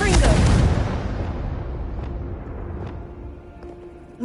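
Confringo blasting spell from Hogwarts Legacy detonating in a loud, close boom that rolls into a long decaying rumble, with a few faint crackles trailing off.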